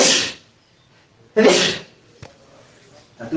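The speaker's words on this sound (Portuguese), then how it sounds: "Espirrei aqui um pouco." An elderly grandmother sneezes indoors near an open window: two sharp, close sneezes about a second and a half apart, followed by a small click and a faint breath, with no talk over them.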